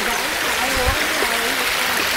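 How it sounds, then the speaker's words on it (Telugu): Small waterfall stream at Ananthagiri Hills, a steady broadband rush of flowing water heard close and continuous with faint splashes, without speech over it. "ఈ వాటర్ ఫాల్స్ ఇక్కడ చూడండి"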